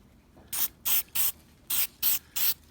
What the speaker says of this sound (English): you can put in a spray bottle